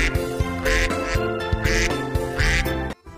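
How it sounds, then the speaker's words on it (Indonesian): A green toy duck that can walk gives three loud electronic quacks in a regular rhythm over a steady mechanical whir and clicking, ending abruptly. "Dan ini ada bebek yang warna hijau teman."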